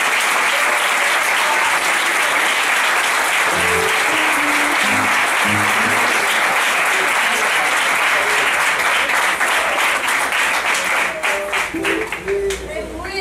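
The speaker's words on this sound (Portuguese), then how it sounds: "As palmas aplaudem a Jesus." Sustained applause from a church congregation during an evangelical worship service, dense and steady throughout, with a voice speaking over it near the middle and end.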